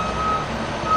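A remote-controlled concrete mixer truck built in Ohio sounds a steady, loud reversing beep over rumbling engine noise.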